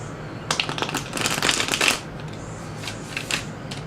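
Tarot cards are shuffled up close for a full moon reading: a dense riffling burst of crisp card flutters followed by a few lighter, separate shuffling rustles, with no talk.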